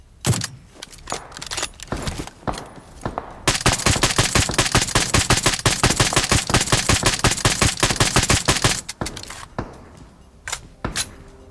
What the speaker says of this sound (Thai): ยิงคนไม่ได้เราไปยิงบอทก่อนนะ